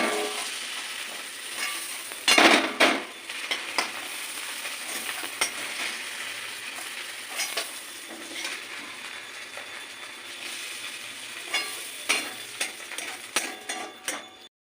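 Prawns fry in oil with a steady broad sizzle, punctuated by clinks and scrapes of a utensil against the pan.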